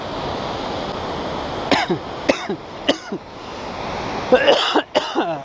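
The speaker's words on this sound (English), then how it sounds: "I've got a cough starting" Several short coughs come in an uneven series over a steady rushing river, close to the listener, the last few clustered together.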